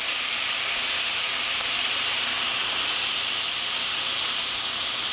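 White wine sizzling and evaporating in a hot pan for shrimp scampi, a steady loud hiss that continues unbroken throughout, with no talking.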